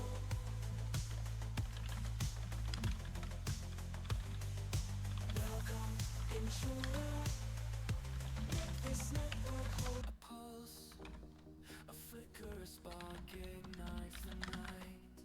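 Fast computer keyboard typing during a penetration-testing session, clicks running steadily over a continuous musical background that drops in level partway through.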